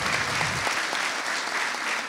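Steady, dense applause from a live audience clapping for a director at a book presentation event, heard close and continuous throughout, with no speech over it.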